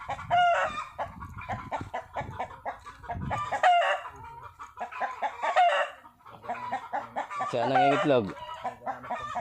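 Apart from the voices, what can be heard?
chickens clucking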